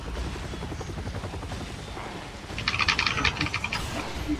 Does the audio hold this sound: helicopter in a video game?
yes